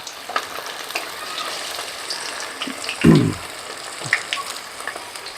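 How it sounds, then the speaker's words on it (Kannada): Chicken leg pieces for kebab drop into hot oil and fry with a steady crackling sizzle, a louder burst as fresh pieces hit the oil midway, with faint stirring clinks. "ಲೆಗ್ ಪೀಸ್ ಹಾಕ್ಕೊತಾ ಇದ್ದೀನಿ. ಎಣ್ಣೆ ಕಾಯ್ದಿದೆ, ಕಬಾಬ್ಗೆ ರೆಡಿ ಆಗ್ತಾ ಇದೆ."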